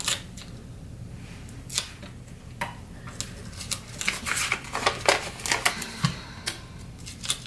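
Paper planner sticker box being folded in half, with soft crinkles, taps and creases that grow busier and louder toward the end, close by with no talk.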